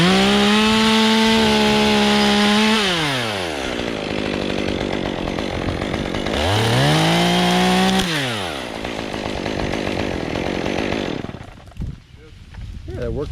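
A chainsaw revs high, drops as it bites into a tree limb to cut a wide open hinge, then revs up and cuts again, loud and close throughout with talk beneath.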